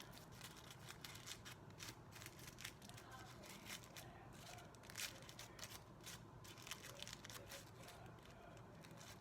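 Tissue paper petals for cherry blossom crafts are handled and pulled forward, giving faint, close crinkling and rustling with irregular sharp crackles throughout.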